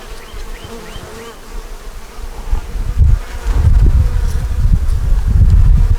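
A honey bee swarm hums in a steady, dense buzz that swells louder partway through, with scattered close passes of individual bees over a low rumbling background.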